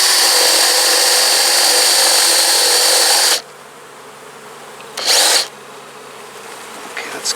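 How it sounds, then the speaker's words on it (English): A power drill bores a starter hole through the front of a wooden beehive box, a loud, steady whine that runs for about three seconds and then stops, followed by a short second burst. "I'm just going to drill a starter through the front here."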